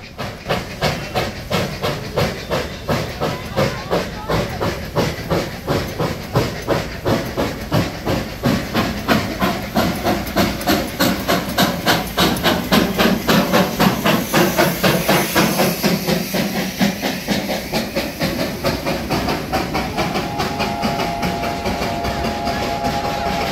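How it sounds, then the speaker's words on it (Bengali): The Darjeeling toy train departs with loud, rhythmic steam chuffs that repeat steadily over a constant hiss, sounding close and sustained throughout. "দেখুন এখানে টয় ট্রেনটা ছাড়ছে"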